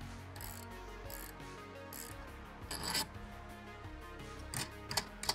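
A hanger bolt with a sealing washer is screwed into an Eternit or shingle roof for a solar panel mount, giving irregular ratcheting mechanical clicks over a steady background, with a few louder clicks near the end.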